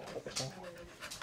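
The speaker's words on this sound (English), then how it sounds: "You're such a nice dog." A dog pants close by in quick, quiet breaths, with friendly voices talking softly over it.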